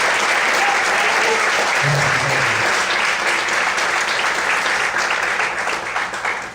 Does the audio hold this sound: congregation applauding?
yes